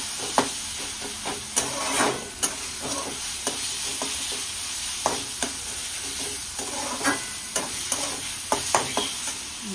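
Ingredients sizzle and fry in hot oil for vada pav while a spoon stirs, scraping the pan in repeated sharp clinks over a constant close hiss.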